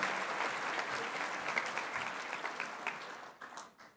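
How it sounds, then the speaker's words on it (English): Sustained applause from a crowd at a school graduation ceremony, dense clapping that holds steady before thinning out near the end. "You deserve a round of applause for this."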